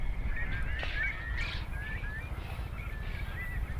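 Large long-billed curlews and Far Eastern curlews call at a tidal mudflat wetland, sending repeated rising whistles, some far and some nearer, over steady low wind or water noise.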